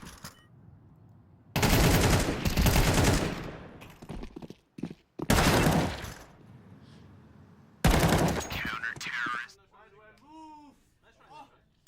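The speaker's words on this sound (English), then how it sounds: "They're shooting." Gunfire rings out during a Counter-Strike match at PGL Masters Bucharest 2025, in loud, sustained automatic bursts separated by pauses, while commentators talk and laugh over the action.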